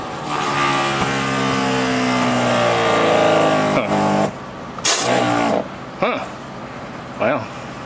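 A Sisun portable pressure washer runs with a steady, loud motor drone. After a few seconds it breaks into short, separate bursts of water spray.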